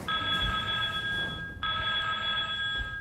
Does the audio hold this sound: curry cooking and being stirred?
no